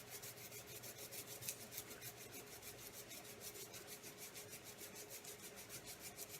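Stiff scrub brush bristles rasp steadily over a hand and fingers during a surgical hand scrub, a close, even back-and-forth rubbing rhythm repeated many times with no talking.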